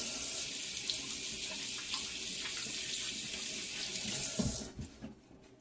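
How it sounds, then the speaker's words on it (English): A kitchen sink tap runs steadily while hands are washed during home cooking, a close, even rush of water that cuts off near the end, leaving a quiet drip-like tail. "now I'm going to wash my hands real quick"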